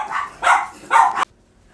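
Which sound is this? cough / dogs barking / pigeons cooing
dogs barking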